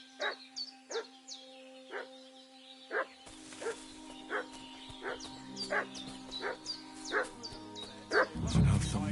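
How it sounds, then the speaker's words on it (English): A dog in a video game barks and yips repeatedly in short bursts, fussing nearby over a steady low hum, with a deeper rumble swelling at the end. "What's that dog making such a fuss about?"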